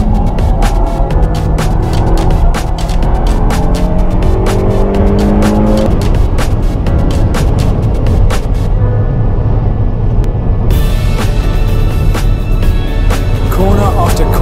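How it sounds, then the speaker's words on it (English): An unmodified Peugeot 308 GTi is driven hard around the Nürburgring: a loud, continuous engine roar rises and falls through gear changes, with tires squealing through corners. "the 308 GTI was eating dedicated track cars for breakfast"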